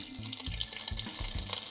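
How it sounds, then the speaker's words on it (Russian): Egg white being poured into a pan or pot of water for poached eggs, a soft intermittent splashing and trickling with low gurgling pulses, quiet and close. "Наливаем белок."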